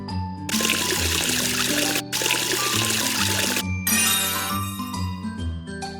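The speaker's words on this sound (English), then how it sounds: "Wash the face with water one more time." Cartoon water pouring as a face is washed, two bright splashy pours with a short break between them, set over a tinkling, chiming children's melody.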